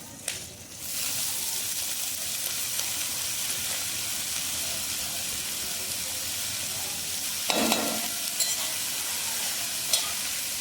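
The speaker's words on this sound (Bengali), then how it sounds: "এবারে দিয়ে দিচ্ছি শাকটা," Leafy greens (cockscomb leaves) frying with garlic, black cumin and chilli powder in a hot pan, a steady dense sizzle throughout with a scraping stir near the end, close and alone.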